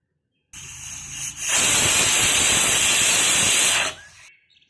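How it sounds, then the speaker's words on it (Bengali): A pressure cooker cooking dal with water spinach lets out a loud, sustained whistle of hissing steam that starts with a short burst, holds steady for a few seconds and then cuts off abruptly. "এরপর একটু নাড়াচাড়া করে আমি প্রেসার কুকারে 3 থেকে 4টা সিটি দিয়ে দিলাম।"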